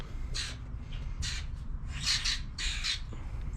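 Harsh bird squawks come in four separate bursts over a low background hum, loud and fairly close.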